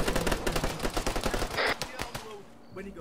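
Sustained machine-gun fire in ARMA 3, rapid, evenly spaced shots rattling for about two seconds before thinning into a few scattered reports, with faint voices underneath.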